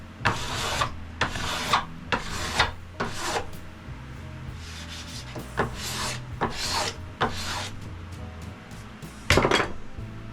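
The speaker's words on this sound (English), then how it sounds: "I wanted to see how easily the finish would scrape off." A scraper rasps the old finish off a wooden Pembroke table board in a series of rhythmic, close strokes, each a harsh scratching pass, with no talking.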